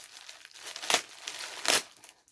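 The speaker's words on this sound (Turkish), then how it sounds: "Paketin birini açtık." Plastic wrapping on a parcel crinkles and rustles close up as it is unwrapped, with two sharper crackling bursts amid softer handling noise and no talking.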